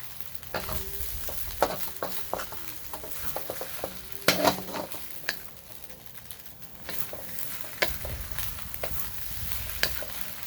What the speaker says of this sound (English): Gotta scramble those eggs around.